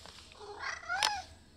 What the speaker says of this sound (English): What are you doing, Farm Cat?